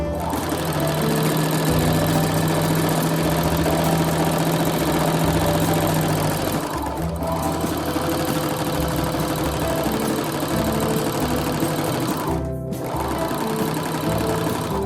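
A sewing machine stitching a seam runs loud and close in a continuous motor whir with a rapid needle rhythm, pausing briefly twice before starting up again, with no voices.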